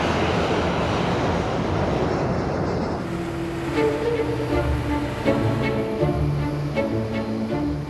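An airplane at Heathrow Airport roars loudly with a broad engine rush that drops after a few seconds into a lower, steadier engine drone with tonal whine.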